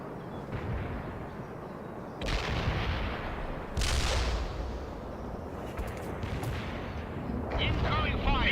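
Artillery fire in the real-time strategy game World in Conflict, heavy booming blasts landing at intervals over a dense rumbling battle din, several loud impacts spaced a second or two apart.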